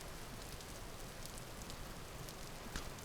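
In the Vintage Story video game, rain hisses as a faint, even wash of patter that never breaks, with no voices over it.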